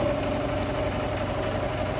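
A 50cc racing-class chainsaw engine, freshly fitted with a swapped carburetor, runs steadily with a low, continuous idling drone and a constant mid-pitched tone, close and unbroken, with no talk.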